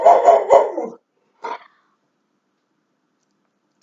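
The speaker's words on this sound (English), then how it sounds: "Sorry, it's city life and Savvy's barking." Three quick barks from a dog, followed by one more short bark after a pause, then silence.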